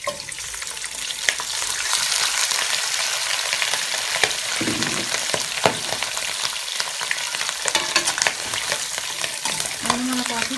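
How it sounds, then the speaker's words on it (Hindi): Mutton fries in hot oil for a karahi, giving a continuous close sizzle with scattered stirring clatters throughout. "ऑयल हमारा गर्म हो चुका है। हम इसमें मटन डाल देंगे।"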